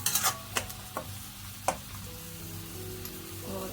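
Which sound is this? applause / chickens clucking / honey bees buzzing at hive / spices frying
spices frying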